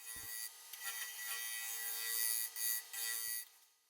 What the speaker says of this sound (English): I'm going back over the outside here to clean up the CA glue